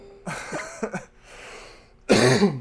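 A person with a lingering cough coughs and clears their throat in a few close, loud bursts separated by short breathy pauses.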